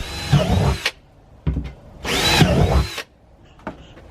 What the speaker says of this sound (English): I'm waiting for him to come drill holes into those